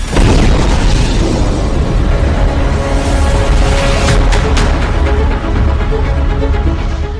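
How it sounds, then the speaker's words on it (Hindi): A loud explosion from a Russian missile strike on Kharkiv roars as a dense, sustained rumble filling the whole clip, with a few sharp crackles partway through and no speech. "खार्किव पर रूस के मिसाइल हमले से जोरदार धमाका हुआ"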